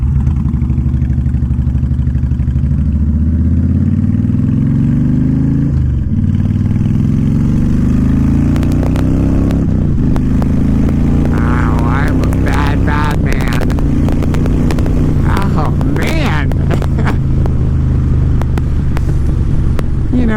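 Honda Fury chopper-style motorcycle engine while riding, a steady low rumble rising and falling in pitch through several gear changes, loud and close, with a voice talking over it.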